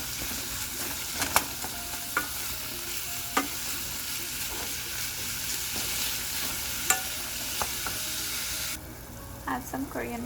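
Beef with ginger garlic paste frying in a pan, a steady sizzle under scattered sharp clinks and scrapes of a spoon stirring, the sizzle quieting near the end.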